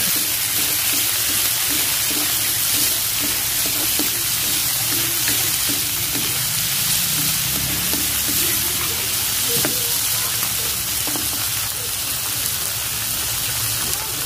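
Big sea snails sizzle steadily in a hot pan as they are stirred, a dense continuous crackle and hiss with occasional scraping and clinks, close and fairly loud throughout.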